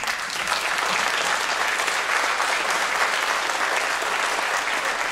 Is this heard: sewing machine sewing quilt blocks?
no